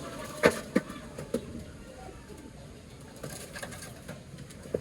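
Racing pigeons in a loft cooing, a few soft calls and brief flutters near the start, then quieter low murmuring against a faint background hum, no talk.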